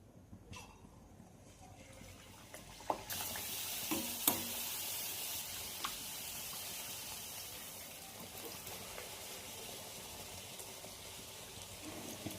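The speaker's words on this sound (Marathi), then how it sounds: "तेल तापलेलं आहे चांगलं. अजून एक तळून बघूया आपण." Bhature deep-frying in hot oil, a steady loud sizzle that swells after a few seconds and carries on throughout, with occasional light clinks of a utensil against the pan.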